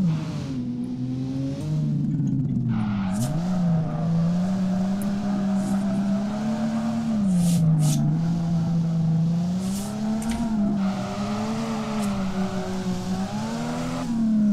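A car in the drift simulator DRIFT21 drives and drifts with a steady, loud engine whose pitch rises and dips as the throttle is worked, a sustained revving drone with no talk.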